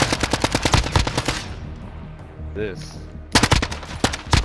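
An AN-94 rifle fires in Modern Warfare: rapid, loud automatic bursts of evenly spaced shots, then a short pause filled with game effects, then another close burst, with a brief voice in between.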